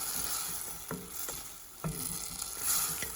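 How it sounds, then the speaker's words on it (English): Tomato puree cooking in an Instant Pot pressure cooker, with a steady sizzle and bubbling and a few sharp scrapes of a spoon stirring it, close and alone. "I am going to add tomato puree in this cooker and let it cook for some time"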